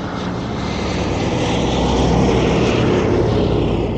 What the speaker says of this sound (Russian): Речь идет о штурмовике Ил-2.